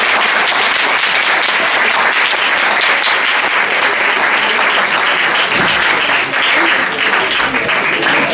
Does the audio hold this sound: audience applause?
yes